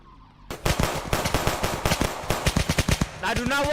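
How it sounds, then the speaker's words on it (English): Rapid automatic gunfire rattles through a video game match in a long, loud burst of close, evenly spaced shots that ends in a warbling tone. "They're shooting."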